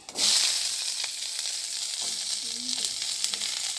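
Onion, garlic, green chili and ginger fry in hot oil for a squid curry, giving a loud, steady sizzle close by with a few stirring scrapes, and no one speaks.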